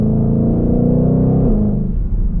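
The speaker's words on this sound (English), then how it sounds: "you can hear that supercharger up there too" A 2021 Shelby GT500 engine revs hard from inside the car, a loud deep rumble climbing in pitch with a faint supercharger whine layered above, then easing off.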